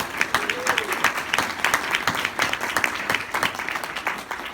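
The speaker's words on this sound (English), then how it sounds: "I think you ought to give yourself an applause," At a keynote marking a school district's 60th anniversary, the audience claps for itself, a lively, close burst of many hands with distinct sharp claps standing out.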